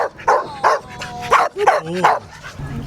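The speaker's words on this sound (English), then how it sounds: "there's actually a dog out there right now" A dog at an animal shelter barks and yips close by in a quick irregular series, with whimpering, rising whines between the barks.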